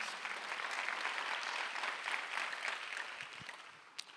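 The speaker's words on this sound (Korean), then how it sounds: "박수를 한번 보내세요" Steady applause from a church congregation, many hands clapping continuously at moderate loudness with no talking, a few sharper claps standing out near the end.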